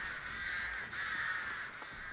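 Crows caw in a video game, a harsh, continuous cawing chorus that stays loud and close throughout, with no talking over it.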